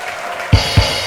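A church congregation breaks into applause for God partway through, with two soft low thumps in a short burst of clapping.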